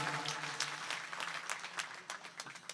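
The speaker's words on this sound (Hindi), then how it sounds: "तो एक बार तालियां उनके लिए भी आपकी बजनी चाहिए जोरदार" A faint, distant round of clapping from an outdoor audience at a Hindi poetry gathering on a school ground in Harda, with scattered sharp individual claps over a low steady hum.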